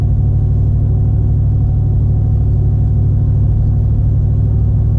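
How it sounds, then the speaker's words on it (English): A vehicle's engine climbs a small hill while towing on 3.08 rear gears, a loud, steady low rumble that drones without a break, heard from inside the cab with no talking. "Going up this little hill, it did a little downshift."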